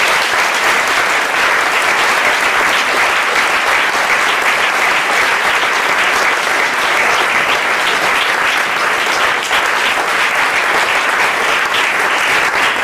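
A gala audience gives sustained, dense applause that fills the whole stretch at steady loudness, with no voices breaking through.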